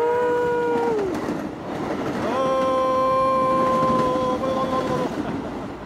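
A train sound effect plays during a political livestream, a continuous loud rumble of rolling rail cars with steady horn-like tones sustained over it, a short dip in the middle and no talk.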